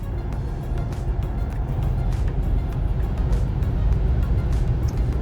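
Inside a Tesla electric car accelerating to pass, heavy road and tire rumble swells steadily with faint whine above. There is no talking.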